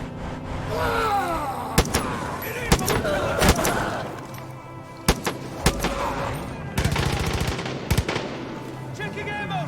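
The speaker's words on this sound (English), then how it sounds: "Shoot the center!" Gunfire in the Far Cry 5 video game as players shoot at cult speaker trucks: loud bursts of rapid shots and single cracks repeat across the clip over game music and shouted voice lines.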